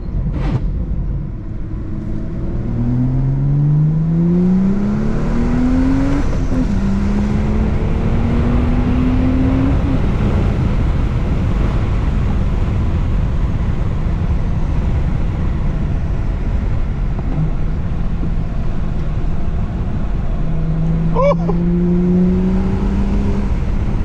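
BMW F30 335i with the N55 engine heard from inside the car, loud and continuous as it accelerates hard, climbing in pitch through several gear shifts with brief dips between them.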